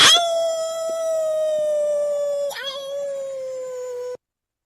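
A narrator's voice imitates a long wolfish howl, one sustained tone that slides slightly downward with a break partway, close and loud before it cuts off.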